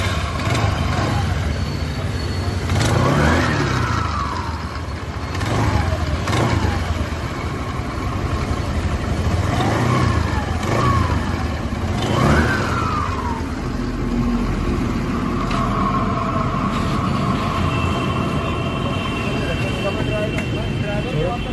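A 2010 Suzuki Access scooter engine with an engine-noise fault, idling steadily and revved lightly in a few gentle rising swells, with people talking close by throughout.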